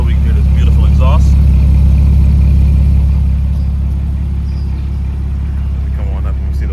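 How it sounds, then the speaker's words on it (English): A sports car's engine idles with a deep, steady exhaust rumble that stays loud and close throughout, while faint voices come and go in the background. "leave the car running during this video, we can hear this beautiful exhaust"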